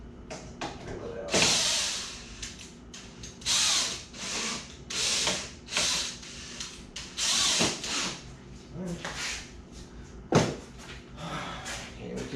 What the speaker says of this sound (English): go back and drill it out